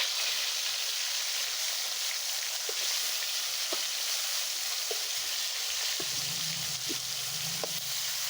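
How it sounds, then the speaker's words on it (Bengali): Mrigel fish fries in hot oil in a wok, giving a continuous broadband hiss of sizzling with scattered soft pops and a low bubbling hum entering later. "তেলগুলো গরম হয়েছে, এখন আমি মাছ দিব।"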